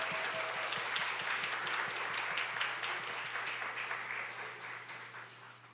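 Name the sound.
congregation applause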